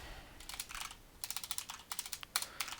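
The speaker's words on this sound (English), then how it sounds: "I am the best typer in the world" Fingers type on a computer keyboard, with quick, faint clusters of light key clicks in uneven bursts and short pauses between them.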